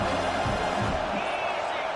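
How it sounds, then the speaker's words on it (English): Stadium crowd noise from the College Football 26 video game on a third down, a dense steady roar of many voices that stays loud throughout, with a brief cheer or whoop rising near the middle. "The Tide crowd rolling noise down on the Saban field on third down."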